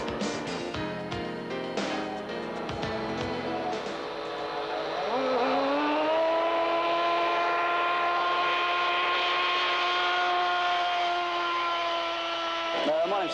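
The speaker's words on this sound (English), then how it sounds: "Hans has built into his aircraft a very effective hush kit. As you can hear, it really makes a difference." A model jet aircraft fitted with a hush kit flies past as a strong turbine whine rises and holds steady, loud and close, with earlier engine noise and some talk at the start.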